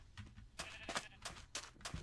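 In Minecraft, sheep bleat several times in short, nasal, wavering calls close by, spaced about every third of a second and louder toward the middle, alone without talk.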